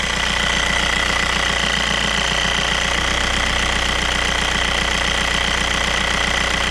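A 1.9 TDI 110 hp diesel engine in a VW or Audi runs with an injection timing problem, giving a loud, steady idle made up of a rapid and even knocking clatter over a deep continuous drone.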